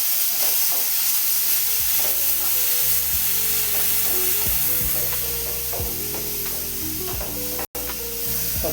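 Chopped tomatoes sautéing in a hot pan for Mysore rasam, a loud steady sizzle with repeated scraping strokes from a stirring utensil, close and without speech.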